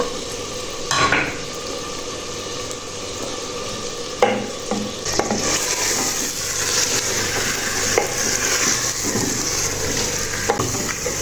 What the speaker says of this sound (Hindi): गोश्त थोड़ा सा फ्राई हो गया होगा तो अभी मैं डाल देती हूँ इसमें आलू